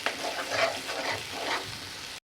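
A ground masala paste sizzles and is stirred in a pan over onion and tomato that were sautéed earlier, giving a steady close frying crackle with brief scraping stirs and no voices.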